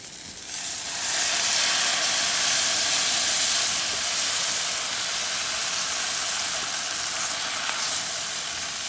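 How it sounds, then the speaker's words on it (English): Milk is whisked into a hot chicken pasta skillet, giving a steady, loud sizzle and hiss that continues without a break for several seconds. "we're gonna slowly now whisk in this milk"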